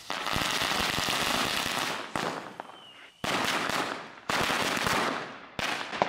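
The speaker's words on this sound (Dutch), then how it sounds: "Even een terugblik van mijn vuurwerk dingetje." Firecrackers and fireworks going off in quick crackling bursts, loud and close, separated by short pauses with a faint whistle in between.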